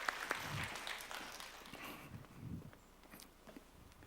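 Applause during a youth church service, a soft, distant wash of clapping that is loudest at the start and gradually fades, with a few footstep-like thumps underneath.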